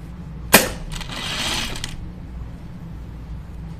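A sewing machine stitches a seam on Free Range slacks, starting with a sharp click followed by a short whirring run of about a second, close and fairly quiet before fading to stillness.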